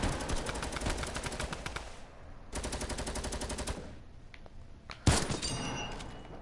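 Light machine gun fire in a video game: two long sustained bursts of rapid, evenly spaced shots, loud and close, then a brief pause before a sharp single blast and a ringing tail.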